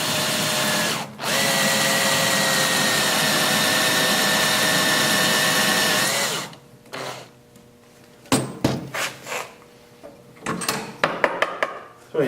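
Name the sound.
power drill drilling a hole in horn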